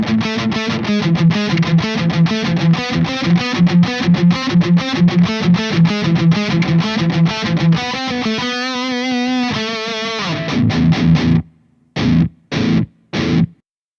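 High-gain distorted electric guitar through an Engl Powerball II amp with the noise gate turned fully up, playing fast chugging palm-muted riffs and a held chord, then clipped stabs cut to silence between hits.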